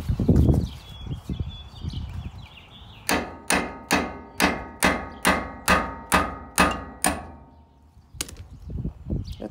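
Metal hammer strikes a steel bracket on the rear bottom roller assembly of an M&W 1800 round baler, about ten loud, evenly spaced ringing blows in a steady rhythm, preceded by clattering handling and faint background noise.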